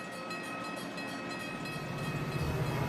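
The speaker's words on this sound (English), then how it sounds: "Emergency fuel gets passenger trains rolling again." A passenger train rolls along steadily with a continuous rumble and faint rhythmic wheel clatter. It carries on for a few seconds at moderate distance with no voices.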